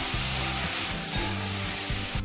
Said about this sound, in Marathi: तर आता आपण जे कारले कट करून घेतले होते त्याच्यामध्ये टाकायचे आपल्याला. आणि हे पण आता एकत्र मिक्स करून घ्यायचं